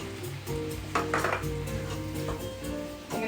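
Curry paste and tamarind being stirred together in a cooking pot, with clinks and scraping of a spoon against the pot and a soft sizzle running steadily underneath, close and moderately loud.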